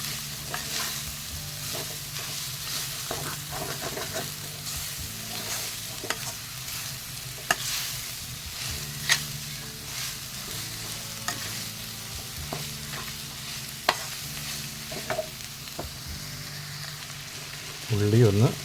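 Onions sauté and sizzle in a pan with salt while being stirred for a Kerala-style country chicken piratt. A steady, close frying hiss continues throughout, with intermittent scraping stir sounds and a louder clatter near the end.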